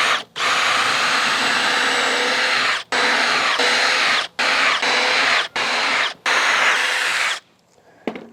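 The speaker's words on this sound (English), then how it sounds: "I'm going to pre-drill holes to prevent cracking." A power drill pre-drilling holes in wood blocks for a homemade chicken coop lift, running in close, loud bursts of several seconds each, stopping and restarting about six times, then going quiet.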